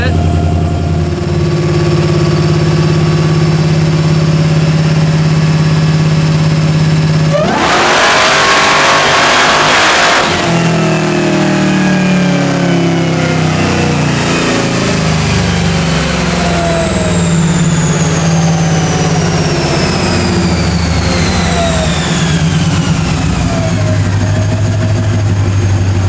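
A 1972 Dodge Demon with a swapped-in Hellcat engine runs on a dyno, first idling loudly and steadily, then a sudden roaring rev burst that falls back to a lumpy, misfiring idle while people talk nearby.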